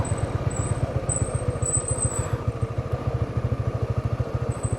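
A Honda CB150X motorcycle idles close by while being parked, its single-cylinder engine thumping in a fast, steady low pulse with a faint mechanical clatter on top and a brief high whine near the start.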